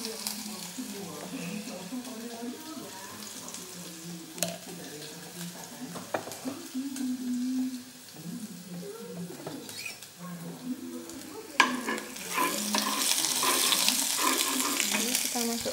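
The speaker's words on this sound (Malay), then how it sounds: "kita masukkan ke minyak goreng ya." Ground onion sizzles and crackles in hot oil with stirring scrapes throughout, rising to a louder hiss near the end; close by.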